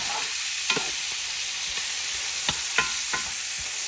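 Sausage renders and fries in a pan with a steady, dense sizzle, broken by a few short scraping stirs. Close and even in level, with no voices.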